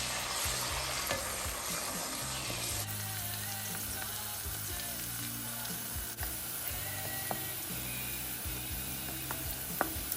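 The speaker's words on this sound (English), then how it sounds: "You're going to fry this until the onions become translucent." Onions frying in a pan for homemade gari and beans, a steady close sizzle with occasional stirring scrapes and clicks throughout.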